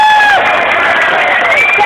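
Large crowd cheering, whistling and applauding loudly and continuously at an outdoor Rally for Rail in Newcastle, welcoming a speaker, with voices shouting within the dense roar.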